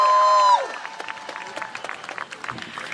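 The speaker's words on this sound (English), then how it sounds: "Let's give Cindy another round of applause" Audience applause at a rally for speaker Cindy, a loud held tone cutting off at the start, then scattered, fairly quiet clapping from the crowd continuing with a few louder claps.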